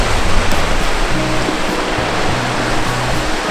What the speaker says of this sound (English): there's not much water coming out of the waterfall